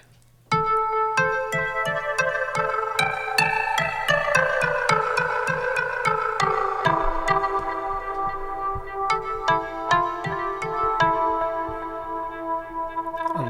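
Omnisphere Rainbow Gargle synth patch with the mod wheel adding a gargling warble, a rapid pulsing chain of bright bell-like tones over a low sustained drone, playing alone for several seconds.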